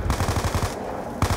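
Rapid pistol gunfire from Black Ops 2 Zombies on the Town map, a loud burst of repeated shots at a steady fast rhythm, a short pause, then another burst resuming.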